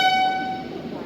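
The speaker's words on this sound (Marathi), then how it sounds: "कोल्हापूर पुणे वंदे भारत एक्सप्रेस निघालेली आहे प्लॅटफॉर्म नंबर 3 वरून" Kolhapur–Pune Vande Bharat Express departing from platform 3, a brief tonal horn blast sounding over low station rumble, fading within a second.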